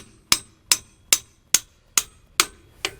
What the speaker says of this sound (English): we're going to take a hammer here. We're just going to try to hit out that bolt.